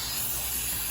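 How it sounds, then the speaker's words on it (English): A continuous close hiss of water spraying from a bottle onto the rear roll-down window glass of a Hummer H2 during tinting, steady and unbroken. "let's go ahead and spray it"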